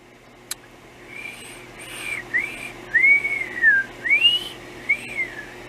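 A person whistling a few short rising and falling notes close by, breathy and a little unsteady, after a single sharp click at the start, over a faint steady hum.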